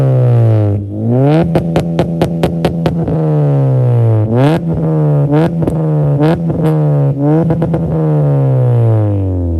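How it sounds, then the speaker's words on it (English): A loud, raspy exhaust on a 9th-generation Honda Civic Si coupe with a full exhaust system and no catalytic converter revs up and down repeatedly, with sharp throttle blips and crackles between sustained engine drones, very close and unmuffled. "This thing is super loud. It has a full exhaust system, no cat, very much so Honda."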